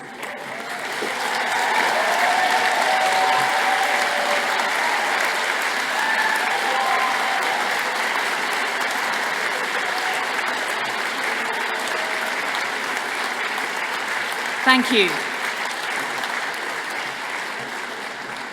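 A graduation audience at a Glasgow Caledonian University afternoon ceremony stands for sustained applause with cheering, a dense, steady roar of clapping filling the hall for most of the stretch, with a brief spoken thanks near the end.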